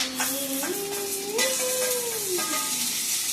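Tomatoes sizzle in hot oil in a pan and are stirred with scraping strokes. The frying hiss is close and steady, with a sustained tonal hum running over it.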